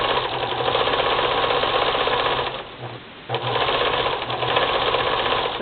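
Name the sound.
sewing machine stitching braid onto thick towel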